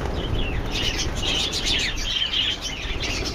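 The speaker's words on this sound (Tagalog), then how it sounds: "Yung mga ibon natin, oh." Small caged birds chirp and tweet in a backyard aviary, a steady run of bright overlapping calls over a constant low outdoor rumble, with no talking.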